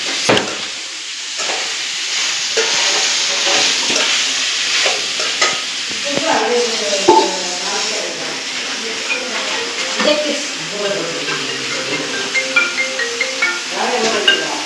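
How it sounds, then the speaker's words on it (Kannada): A spiced tempering (oggarane) sizzles and spits in a hot pan with scraping stirs, crackling steadily up close while voices talk over it in the second half. "ಬರೀ ಒಗ್ಗರಣೆ ಹಾಕ್ತೀನಿ"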